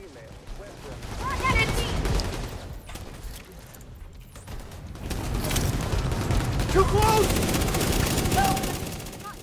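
Gunfire in The Division 2 video game: sustained bursts of rapid shots and machine-gun fire, loud and close, in two dense waves with a brief lull between, while people talk over it.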